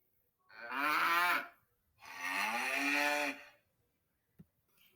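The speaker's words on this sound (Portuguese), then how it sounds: "o animal que a gente colocou o som é a vaca" Two long, loud cow moos in a row, each about a second, then a brief click near the end, with no other sound around them.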